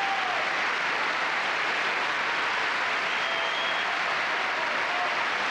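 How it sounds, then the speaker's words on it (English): Steady, dense applause from a large audience in Avery Fisher Hall after an opera orchestra's performance of Verdi's Aida, a continuous even wash with no voices over it. "rise to acknowledge the applause of the audience"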